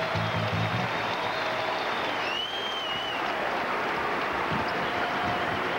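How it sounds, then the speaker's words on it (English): Standing ovation from the crowd at a 1998-99 college basketball game between Missouri and Colorado, a steady, dense roar of clapping and cheering that holds loud for the whole stretch. "Dooling and White getting a great ovation. Standing ovation from this crowd."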